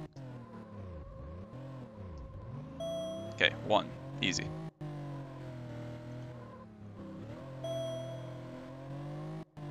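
Porsche engine from the Need for Speed Porsche Unleashed racing game holds a steady droning note with a few sharp squeal-like bursts, while someone talks over it throughout.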